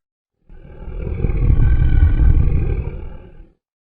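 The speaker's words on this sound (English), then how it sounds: "What's that terrible noise? Asks Beauty. The beast is coming, Says her father." A deep, growling beast roar swells, holds for about three seconds, then fades, loud and close with no other sounds.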